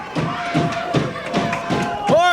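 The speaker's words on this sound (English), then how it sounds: "listen to that crowd rally behind him" Crowd at a Minnesota Wrestling Superstars match rallying behind a wrestler, a steady roar of cheering and scattered claps and thuds under a commentator's voice, swelling near the end.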